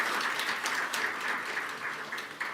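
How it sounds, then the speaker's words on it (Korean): A church congregation at a Sunday worship service claps to welcome visiting guests: a brief, dense patter of many hands, fairly soft and even, with almost no voices over it. "우리 박수로 뜨겁게 환영하도록 하겠습니다"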